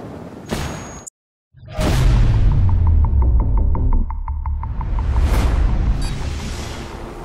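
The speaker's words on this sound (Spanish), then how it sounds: "Throwing a flashbang." A flashbang grenade in Wildlands goes off with a loud burst after a moment of silence, followed by a long ringing drone with rapid pulsing ticks and a rising whoosh, loud and close.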